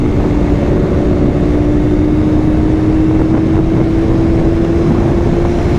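Engine drone from a Kawasaki ZX-25R motorcycle being ridden on a straight road, a loud steady hum with a constant tone throughout, mixed with wind rush, no talking.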